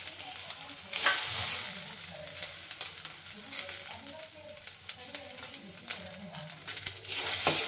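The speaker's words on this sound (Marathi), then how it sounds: "छान असे मटार आपल्याला भाजून घ्यायचे आहेत" Fresh green peas rattle and sizzle in a hot wok-style pan, with steady frying crackle and occasional stirring scrapes, close by, some soft talk faintly underneath.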